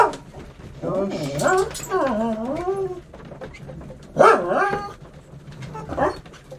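Toby, a dog in a video game, lets out a series of close, clear barks and whining yips in bursts separated by brief pauses, with a person talking alongside.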